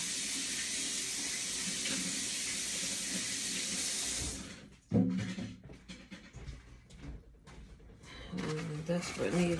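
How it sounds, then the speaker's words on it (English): Running tap water pours steadily into a kitchen sink for about four seconds while hands are washed, then cuts off, followed by clattering and handling sounds nearby. "I'm gonna wash my hands real quick,"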